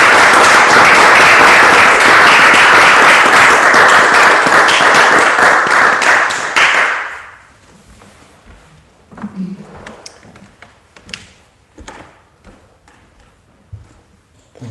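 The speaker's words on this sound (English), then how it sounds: "So a round of applause just to welcome Padmavajra" A large audience at a Buddhist Dharma gathering gives loud, sustained applause to welcome the speaker Padmavajra. The clapping fades out after about seven seconds into a quiet room with scattered small knocks and shuffles.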